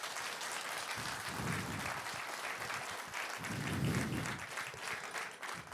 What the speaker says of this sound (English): Can I get a really applause for all these sponsors who make this possible?